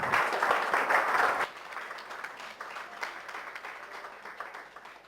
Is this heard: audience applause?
yes